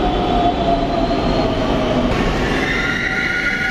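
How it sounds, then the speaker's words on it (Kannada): Riding inside a moving Pune metro train: a steady, close rumble of wheels on track carries a faint high whine throughout, and no one speaks. "ಸ್ವಲ್ಪ ಚಿಕ್ಕ ಮೆಟ್ರೋಗಳಿವು"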